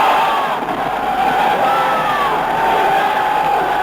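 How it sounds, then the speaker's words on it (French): A large crowd in Algiers on 13 May 1958 acclaims arriving generals and paratroopers with a sustained roar of cheering voices. The sound is loud and continuous, with a muffled, archival tone. "À 19h, les généraux Salan, Allard, Massu arrivent ainsi que des détachements de para que la foule acclame."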